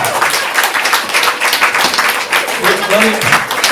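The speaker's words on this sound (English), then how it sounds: "Give them all a round of applause, ladies and gentlemen." A live audience at a stand-up comedy showcase applauds comedians taking a bow, with steady, dense clapping filling the room throughout and voices talking over it near the end.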